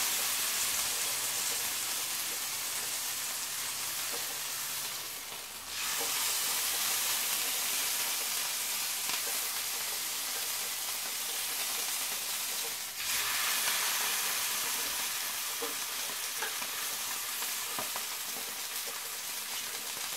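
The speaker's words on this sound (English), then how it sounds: "we need to sear the outside of the steak" A steak rests on its edges in a hot pan, searing with a steady, loud, broadband sizzle that keeps going throughout and briefly dips and surges twice as it shifts.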